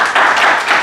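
An audience at a fitness consultation session claps briefly, a short burst of close, fairly loud hand claps lasting under a second.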